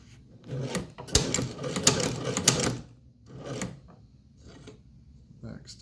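A Chinese leather shoe patcher sewing machine stitches a leather motorcycle vest patch in uneven bursts of rasping, clattering needle strokes separated by pauses.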